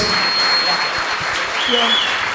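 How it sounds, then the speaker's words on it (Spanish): Applause from an audience at the close of a speech, a steady broad wash of clapping filling the room, with brief voices and a tone mixed in. "Los aplausos."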